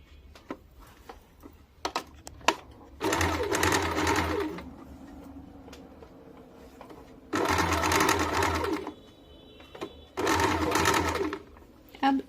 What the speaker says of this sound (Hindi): अब इलास्टिक बीच में डालने के बाद पूरे में गोलाई से सिलाई चला देंगे।